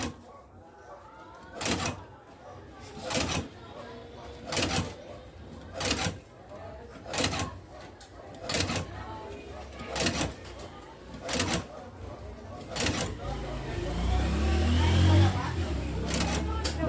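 Pedal-driven shoe repair stitching machine sewing fabric on a Vans shoe, giving evenly spaced single stitch thumps about every one and a half seconds, then a louder rumbling stretch toward the end.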